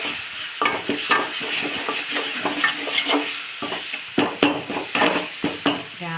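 Palak and onion cooking in hot oil in a pan, a steady close sizzle of frying with repeated clinks and scrapes of a spoon stirring, no voices.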